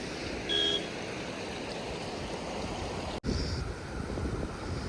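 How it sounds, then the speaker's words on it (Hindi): A small, shallow mountain stream near Manali flows steadily in a continuous broadband rush with wind noise on the microphone, no voices, and a brief dropout partway through. "बिल्कुल हल्का सा नाला रह गया है, जबकि ये पहले है ना काफ़ी चौड़ी नदी होती थी।"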